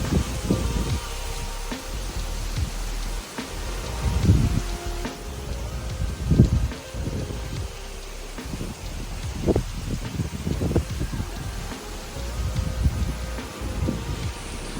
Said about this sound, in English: it's like raining a lot harder as soon as I step out of